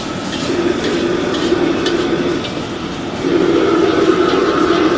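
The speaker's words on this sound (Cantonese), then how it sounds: "呢個時候我哋會再落些生抽啦" Soy sauce poured at the edge of a hot wok hisses while chili lamb is stir-fried, a steady close sizzle with scraping and clinking of the spatula that swells louder partway through.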